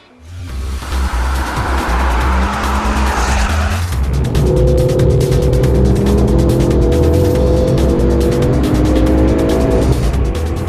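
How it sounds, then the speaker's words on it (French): A Ford Focus RS500's five-cylinder turbo engine pulls hard under acceleration, loud and close, with a rough roar giving way to a climbing tonal engine note held for several seconds. "C'est extraordinaire la poussée de ce 5 cylindres turbo."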